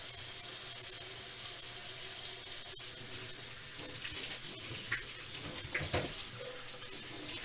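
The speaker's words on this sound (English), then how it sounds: "Rinse out the soap thoroughly and allow it to dry for the next day." A French coffee press is rinsed under a running kitchen tap; steady water rushes and splashes continuously, with small clinks of the glass and metal parts near the end, and no voices.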